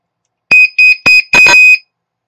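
A buzzer fitted as a low-voltage alarm in a Flysky FS-TH9X (Turnigy 9X) radio transmitter blares four loud, shrill beeps in quick succession, the last one held longer, then stops.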